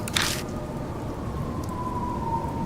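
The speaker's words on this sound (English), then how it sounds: "Soft pitter-patter of rain permeates the area." Soft rain in the horror game Death Mark: a steady, gentle patter of rain under a faint low tone, with one brief splash near the start.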